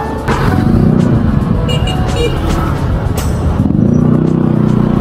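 Road traffic on a small, busy street in Loma de Gato, with close engines passing, a steady rumble and a few sharp higher noises, under occasional talk.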